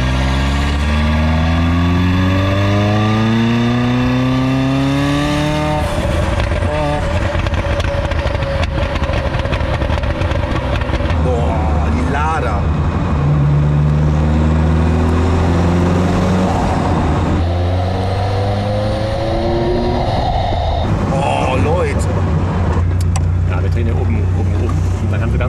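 Ferrari F40 engine heard from inside the car while driving, a loud raw roar climbing through the gears with repeated rising pulls and shifts. People talk excitedly over it.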